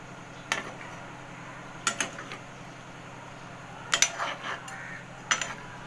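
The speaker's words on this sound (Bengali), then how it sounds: "ঝোলের মধ্যে ভালো করে মিশিয়ে দেব।" Kofta balls made from rice are stirred into gravy in a pan, giving a few soft scrapes and clinks of a spoon against the metal at scattered moments over a quiet background, with no talk.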